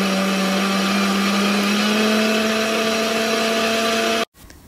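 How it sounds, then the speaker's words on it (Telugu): A mixer grinder churns cream with water to make butter, running as a loud, steady electric whine for about four seconds and then stopping abruptly. "వాటర్ వేసేసుకొని మనం మిక్సీ పట్టేసుకుందాం."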